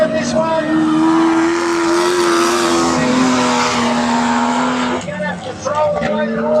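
Modified race cars on a track, with engines droning in long sustained pitch lines that fade as one passes and others come through near the end, loud and close, with an announcer talking over the noise.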